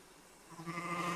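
A single sheep bleats in a Thomas & Friends episode, rising out of quiet background noise into a wavering, nasal cry.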